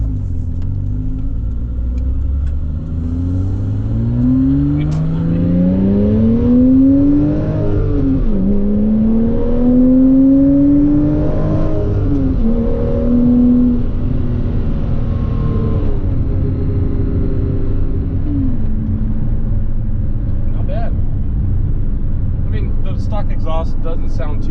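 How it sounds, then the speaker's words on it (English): A Porsche Cayman S 987.1 on its stock factory exhaust pulls hard in third gear, engine note rising repeatedly through the revs with shifts and easing off toward the end, loud and heard from inside the car. "Stock exhaust doesn't sound too bad. I mean, it is a Porsche after all."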